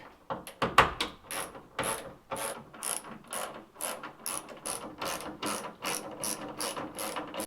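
A hand ratchet loosening bolts on the tailgate light fixture of a Toyota Tacoma, rapid bursts of close mechanical clicking repeated in a steady rhythm, fairly quiet, with no speech.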